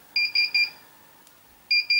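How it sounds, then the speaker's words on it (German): A 12V to 230V inverter rated 2.5 kW sounds its alarm after losing output voltage: a group of three short, shrill electronic beeps, a pause, then two more beeps, clear and close over quiet background. "jetzt hören wir Alarm und am Ausgang gibt es keine Spannung mehr"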